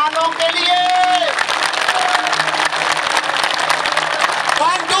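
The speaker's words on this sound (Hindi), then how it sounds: "अब ताली बजने जा रही है ये पूरे पाकिस्तान से आए" Guests who came from across Pakistan get a round of applause from a crowd at a Yoga Day celebration at GC University, a dense, steady clapping that fills the whole stretch with some voices mixed in.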